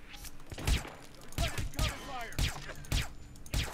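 Enemy gunfire in the Hitman Absolution video game, sharp shots popping in irregular clusters about every half second, moderately loud, with a voice talking between them.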